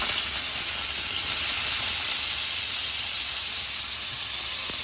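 Beans frying in hot oil in a pan give a steady, loud sizzling hiss that runs unbroken throughout.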